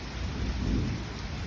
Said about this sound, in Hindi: जब भी बारिश होती है एटलांटा में